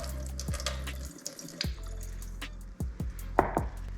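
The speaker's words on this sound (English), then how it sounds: "We're gonna pour a little bit of the juice off" Pickling juice splashes from a glass jar in short irregular pours and drips, with a few louder gurgles near the end.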